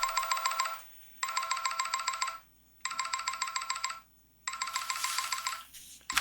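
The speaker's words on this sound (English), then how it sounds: "this is a phone call that's happening" A phone rings in a Jujutsu Kaisen anime episode: four loud, bright trilling bursts in a regular on-off pattern, each about a second long with short gaps between, no talking over them.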